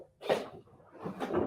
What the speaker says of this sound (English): I'm going to sneeze, bear with me.